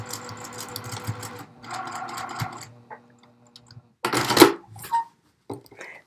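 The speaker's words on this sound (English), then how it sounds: "And then I'm just going to sew it right there." Sewing machine stitching elastic into a lined tieback scrub cap, running in two close bursts of rapid mechanical whirring, then a pause with small handling clicks and a louder clunk of fabric and machine adjustment.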